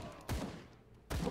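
Two heavy explosion bursts from a grenade in the dark fantasy action RPG Grim Dawn, each a loud booming blast with a short rumbling tail, separated by a quieter stretch of ambient game noise.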